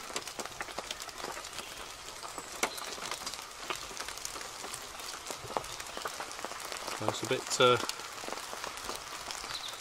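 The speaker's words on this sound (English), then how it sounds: "Really pleased with that now it's raining." Steady patter of rain drumming close by on a taut rooftop tent, with a brief voice speaking over it near the end.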